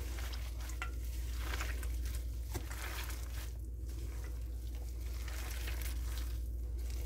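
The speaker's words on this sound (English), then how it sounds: "I'm just going to dig in here and mix this all up really well" Bare hands squishing and kneading a moist meatloaf mixture in a bowl, soft wet squelches and gentle slapping in an irregular rhythm, faint and close with no talking.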